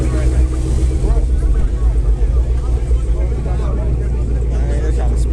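A car engine revs at a car meet, a deep, steady low rumble that runs the whole time under loud outdoor chatter and voices.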